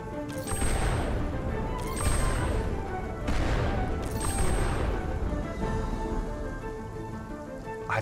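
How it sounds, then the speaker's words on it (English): Continuous heavy rain pours down in the video game Spiritfarer while sharp cracking lightning bursts strike repeatedly, roughly every second or so, loud and close. "I'm sure you're all thrilled to just hear lightning spam all over and over again."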